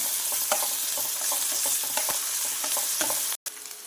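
Garlic paste frying in a pan with onions and green chillies for an aloo kurma, a steady close sizzle with stirring scrapes throughout and a brief silent cut near the end.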